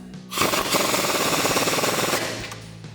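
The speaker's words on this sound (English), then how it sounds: "So we'll grab our 19mm socket to tighten that down." A 19mm socket on a ratchet or impact tool tightens a castle nut on a front strut during installation of a 2.5-inch leveling kit. It makes a loud, steady, rapid hammering rattle for about two seconds, with no talk.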